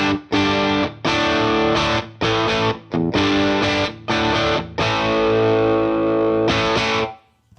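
Electric guitar run through a Supro-style amp model in Guitar Rig 6, distorted chords strummed in loud bursts with short gaps, ending on a long ringing chord that cuts off.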